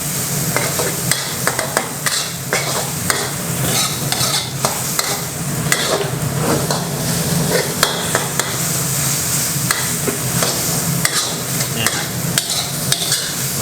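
Shrimp being stir-fried over high heat in a wok for pad kaprao, with loud continuous sizzling and rapid, busy clanking of the spatula against metal, close up and without talk.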